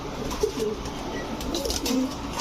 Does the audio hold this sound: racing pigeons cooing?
yes